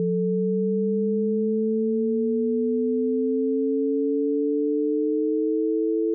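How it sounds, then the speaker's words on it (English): A steady pure 440 Hz sine tone holds while a second sine tone slowly sweeps upward from 110 Hz to 880 Hz, producing audible beating; continuous and alone. "a fixed sine wave at 440 Hz is summed with a sweeping sine wave from 110 Hz to 880 Hz"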